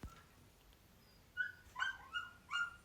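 A dog gives a few short, high barks or yelps in quick succession at moderate distance, heard alone over a quiet background.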